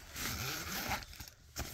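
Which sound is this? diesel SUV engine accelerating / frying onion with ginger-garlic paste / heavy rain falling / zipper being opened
zipper being opened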